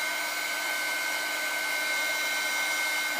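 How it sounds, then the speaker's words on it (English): A heat tool drying melted wax crayon on card, blowing a steady, loud, high-pitched whine and airflow hiss that holds unchanged from start to finish. "So as I'm drying it with my heat tool"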